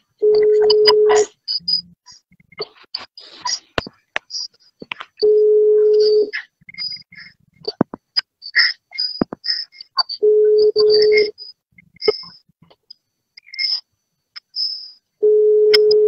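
An outgoing telephone call rings while someone is being dialed, giving repeated steady tone bursts separated by silences, with faint clicks and bits of talk in between.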